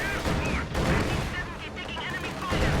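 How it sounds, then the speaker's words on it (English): Anti-tank strafe gunfire rakes the ground in the Company of Heroes 2 strategy game, loud rolling bursts and heavy impacts over a busy battlefield, with a voice talking over it. "Anti-tank strafe coming in."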